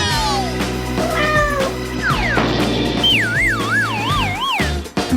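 Cartoonish cat meows in a multiplayer drawing challenge game: several rising and falling meows early on, then wavering, siren-like pitched calls over a steady background drone.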